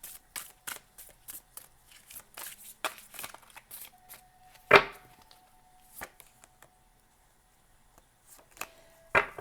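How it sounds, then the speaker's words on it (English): Tarot cards are shuffled by hand in a quiet room, giving a string of short, crisp riffling and tapping bursts, some in quick clusters and a few sharper slaps, separated by near silence. "we're going to have one more shuffle"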